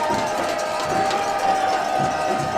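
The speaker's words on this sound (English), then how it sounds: "the crowd on their feet making a lot of noise on the Mountain View side of things" High school varsity football playoff crowd on its feet at Mountain View, roaring after a long third-down play: a continuous dense wash of cheering and shouting from the stands, steady and fairly loud throughout.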